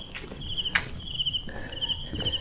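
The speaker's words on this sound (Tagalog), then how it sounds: "Kuliglig lang maririnig mo dito tugang lods eh." Crickets chirp at midnight during solo night exploration of a haunted site, a steady high insect trill with repeated pulses, close and constant, with faint footsteps and rustling beneath.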